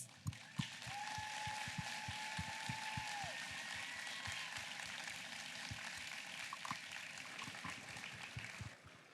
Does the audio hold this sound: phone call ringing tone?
no